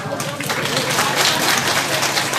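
An outdoor crowd at a civil festival claps briskly, a close, busy patter of many hands at steady volume with faint voices mixed in.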